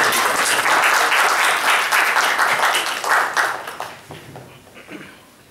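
Audience applause at a Sheri Nashist poetry gathering welcoming Dr. Tasnim Ahmad to the stage: a dense, loud burst of many hands clapping together that holds steady for several seconds, then thins out and fades as scattered claps trail off.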